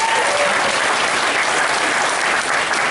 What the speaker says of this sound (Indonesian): Boleh tepuk tangan buat Pak Arya.